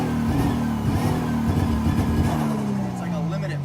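An FC RX7 with a 1JZ engine swap idles in a driveway, a steady close rumble with a droning low hum that drifts slightly lower toward the end, alone without talking.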